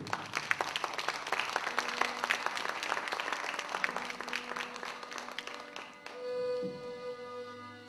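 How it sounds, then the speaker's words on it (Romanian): An audience at a Romanian folk music show by the Țara Vrancei ensemble applauds warmly with dense, lively clapping for about six seconds before it fades and a sustained musical tone takes over. "vă rog să-l aplaudați pe"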